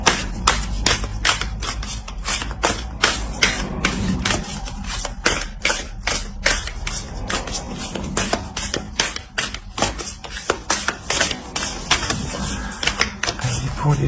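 Oracle cards being shuffled and drawn, a rapid run of crisp card taps and flicks close up, steady and continuous with faint background noise.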